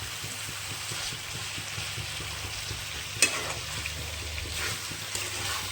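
Kashmiri aloo dum being stirred and fried in a pan, a steady close sizzle with repeated soft scraping strokes of the spoon and one sharp clink partway through, no voices.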